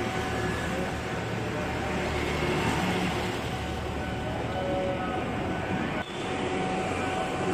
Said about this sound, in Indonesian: Sekali lewat langsung 2 kereta.